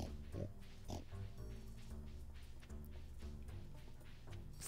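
Pigs oinking in the farming game Stardew Valley, a short repeated series of grunts over steady background game music, with no voices.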